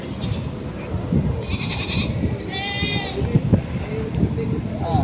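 Water buffalo bleating calls, a few short harmonic cries, heard amid steady outdoor noise and people talking nearby at a livestock auction market in Lucena, Quezon.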